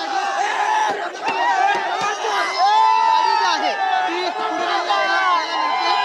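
Maratha protesters crowd around a politician's car, a dense mass of shouting, chanting voices and general commotion, loud and close throughout with overlapping cries.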